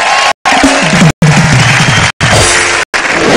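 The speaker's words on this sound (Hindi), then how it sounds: "जरा जोरदार तालियां हमारे उन साथियों के लिए" An audience at a Hindi comedy and poetry stage show breaks into loud, sustained applause and cheering, a dense roar of clapping that cuts out briefly several times.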